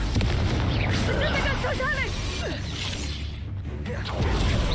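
A Confringo blast spell going off during a Hogwarts Legacy battle, a booming burst amid crackling, clattering combat effects, with a voice calling out in the middle.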